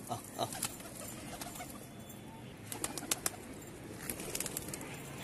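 Two pigeons settle on a rooftop with soft wing flaps and light scuffs against steady outdoor background noise, the flutters coming in brief clusters.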